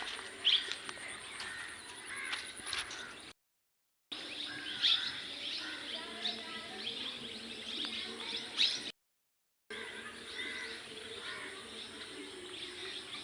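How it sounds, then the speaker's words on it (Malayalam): Parrots call repeatedly in the open, shrill chirps and squawks rising over a steady outdoor background, with brief gaps of silence between stretches. "കുറേ തത്തൊക്കെ ഉണ്ടല്ലോ"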